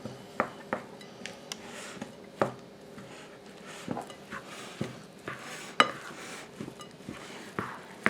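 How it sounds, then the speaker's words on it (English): Crumbled Christmas tree snack cakes stirred into a cream filling in a bowl: a soft wet mixing sound punctuated by repeated light clinks and taps of a utensil against the bowl, fairly quiet and close. "I'm going to take my crumbled up Christmas trees and we're going to stir it into the cream filling"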